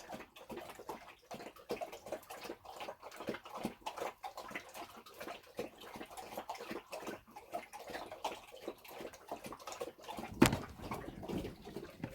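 Big thirsty dogs, Chubbs and Max, lap up water with quick, steady wet slurps repeating throughout, moderately close and fairly quiet, with a brief louder splash near the end.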